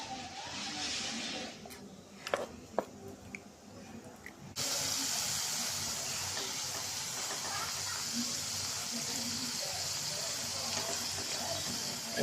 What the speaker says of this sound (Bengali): এই তো আমার পিঠা ভাজা হচ্ছে, কি সুন্দর করে ভাজা যাচ্ছে।